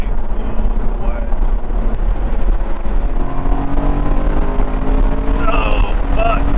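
A 2013 BMW M3 Competition Package cruises along a wet riverside road, engine droning from inside the cabin with rising and falling gear tones, wind and road noise, and people talking over it.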